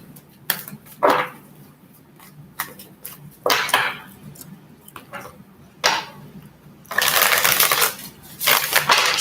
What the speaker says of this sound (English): Just want to get a good shuffle,